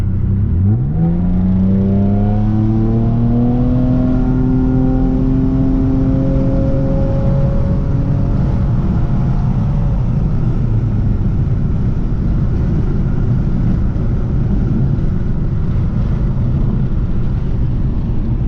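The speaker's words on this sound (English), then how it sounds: "now we're gonna do the wide open throttle" A car engine at wide open throttle, accelerating from about 40 to 80 during a street-tuning data-logging run, rises in a steady loud climbing drone that rings with harmonics, then settles into continuous road and engine roar.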